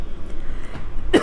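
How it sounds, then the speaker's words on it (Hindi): A single short cough near the end, following a stretch of quiet room noise. "अभी भी थोड़ी खांसी है"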